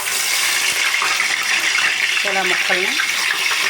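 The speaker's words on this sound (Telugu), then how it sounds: "రెండు ఆయిల్ కింద పెట్టుకొని నీట్గా ఫ్రై చేసుకుంటారు." Bottle gourd pieces are deep frying in oil, giving a constant loud, close sizzle like rushing water, while a person speaks briefly over it.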